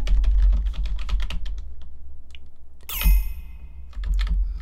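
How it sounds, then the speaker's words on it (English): Rapid, uneven key clatter from a computer keyboard being hammered during a 1990 DOS game of Star Control, with a sharp bright burst of in-game sound midway before the typing resumes. "I am hammering the keyboard"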